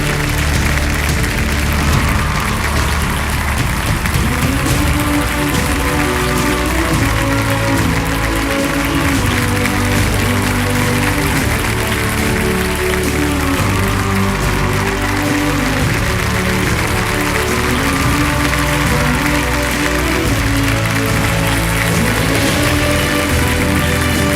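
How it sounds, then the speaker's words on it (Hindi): Loud, sustained applause from a studio audience on a television quiz show set, thick continuous clapping with some crowd murmur that carries on unbroken for over twenty seconds. "जोरदार तालियों के साथ उनका स्वागत किया जाए"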